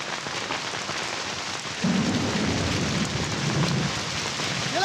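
Heavy rain pours down steadily with a low rumble of thunder rolling in partway through, no voices over the downpour.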